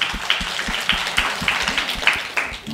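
Scattered clapping from a small school literary-event audience greeting a student's poem reading, sparse and uneven claps of moderate loudness, with no speech.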